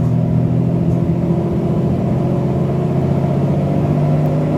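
A Mercedes SL600 engine holds a steady, even drone around 2000 RPM with the gas pedal fixed, a close, continuous mechanical hum without rises or drops.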